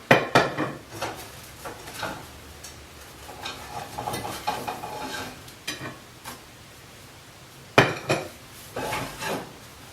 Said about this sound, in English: as I take these out of the pan and plate them